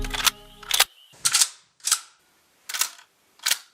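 Shotgun racked and fired in a low-budget llama horror comedy film, a series of sharp, separate snaps and clacks spaced about half a second apart, with a short low hum at the start.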